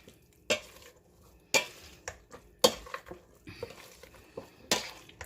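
Boiled potatoes mashed with half a cup of unsweetened almond milk, giving scattered sharp knocks and soft scrapes of the masher against the bowl, spaced irregularly over quiet pauses.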